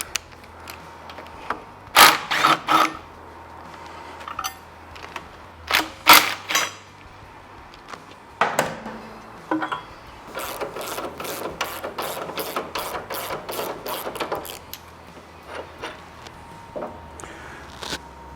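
Ratchet wrench clicks and metallic taps ring out while bolts are removed from the cross member of a Harley-Davidson FXLRST motorcycle, coming in short bursts and then a longer run of rapid, even clicks at close range.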